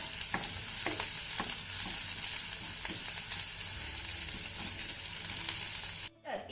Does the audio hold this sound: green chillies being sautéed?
yes